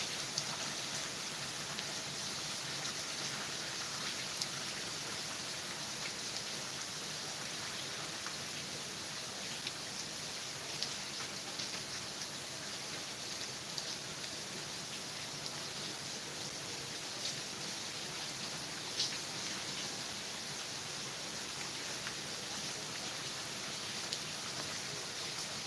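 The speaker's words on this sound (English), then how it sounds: "I can deal with the rain part of it." Steady rain falls outdoors near a lake, a dense, even hiss of drops that carries on without a break, loud and close, with no voices.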